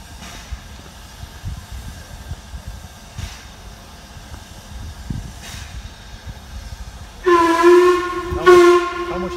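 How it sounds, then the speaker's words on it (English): Steam train on a mainline running under a low rumble, then two loud, steady steam whistle blasts near the end, the second shorter. "Steam train now."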